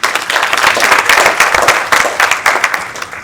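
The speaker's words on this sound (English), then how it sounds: "Another round of applause, please." An audience at a technical conference claps in a loud, dense burst of applause, close and continuous for a few seconds with no talking over it.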